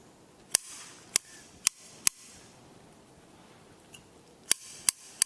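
A series of crisp bonsai scissor snips trimming roots, four in quick succession, a pause with a faint click, then three more snips close together.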